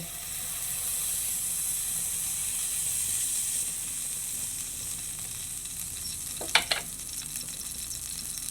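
Mustard oil sizzles in a hot pan for chalta pickle: a steady, fairly loud hiss runs throughout, broken near the end by a couple of sharp metallic clinks.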